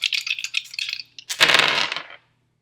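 Astrology dice tumble onto a table, a quick clattering rattle of several small hard bounces followed by a louder burst of rolling clatter that stops abruptly.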